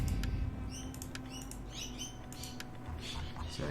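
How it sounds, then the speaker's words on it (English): Birds chirp and tweet in short scattered calls at a moderate distance, over a steady low background rumble, with no talk over them. "you'll hear birds in the background"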